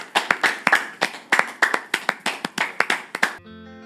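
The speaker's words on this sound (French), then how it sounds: "On les applaudit encore?" An audience claps for musicians in a quick, uneven run of sharp handclaps lasting a few seconds, close and fairly loud, stopping abruptly near the end.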